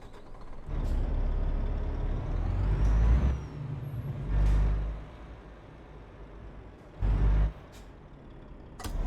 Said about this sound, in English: you guys aren't just listening to super duper loud truck audio noises